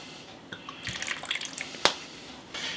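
Rice vinegar is measured out by the teaspoon in a kitchen, with short splashing drips and trickles and a couple of sharp clinks. The pouring is close and brief and no one speaks.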